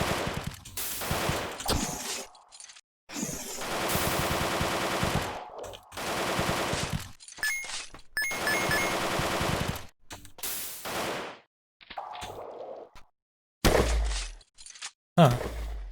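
Machine gun fire in the underwater game Hadal Calm, several loud bursts of rapid shots separated by short silent gaps, with other sharp game effects between them.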